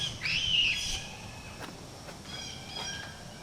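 A single short bird chirp rises near the start, faint and in the background, followed by quiet ambience with a few light clicks from work on a 2000 Jeep Cherokee Limited.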